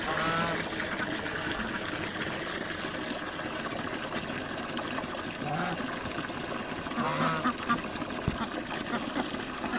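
Electric motor pump running steadily while filling a village duck pool with fresh water, a continuous trickling gush of water under a constant motor drone; people talk faintly over it.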